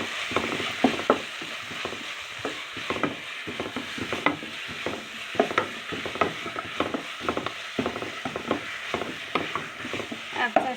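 Beef stew with coriander being stirred in a pot, a utensil scraping and clacking against the metal in a busy, irregular rhythm with a soft simmering hiss beneath, close and fairly loud throughout.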